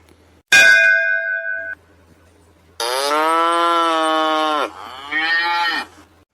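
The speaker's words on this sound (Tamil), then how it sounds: "இந்த மாடு வேறு சத்தம் போட்டுட்டே இருக்குதே" A metallic clang rings out first, then a cow gives a long, loud moo followed by a shorter second moo nearby.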